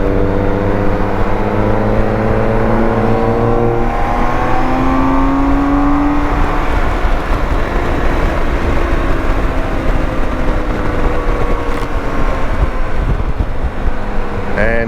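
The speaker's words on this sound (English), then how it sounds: "stuck behind this little TT. It's making all the right noises, but it's got no guts." An Audi TT driving ahead on the road revs its engine in rising and falling sweeps, heard from a following motorcycle over constant loud wind and road roar.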